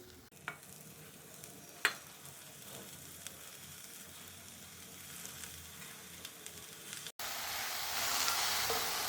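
Fresh spinach is stirred into moong dal in a pan over a low flame: soft scraping and stirring over a gentle sizzle, with a few sharp clicks, then a louder steady hiss of frying near the end.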